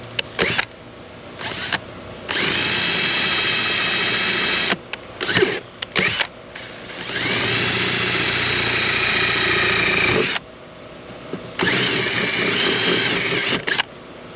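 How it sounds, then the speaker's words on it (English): A power drill whirs in several bursts while drilling holes in a PT Cruiser door for a wind deflector install, loud and close with short stops and restarts between longer runs. "So let's get the drill and do that."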